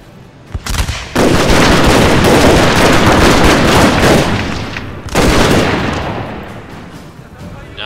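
Massed gunners fire a loud volley in Total War: Shogun 2, a dense crackling fusillade of gunshots booming close, then a second heavy volley that trails off into rolling echoes.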